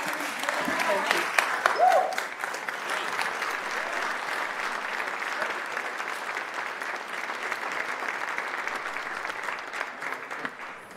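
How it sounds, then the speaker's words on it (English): Sustained applause from a sizable crowd at an awards ceremony, steady clapping throughout with a slightly louder burst near the start. "Another round of applause to our recipients today."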